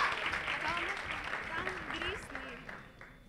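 An audience at a robot line-follower speed competition claps in a moderate, steady applause, with an announcer's voice talking over it throughout.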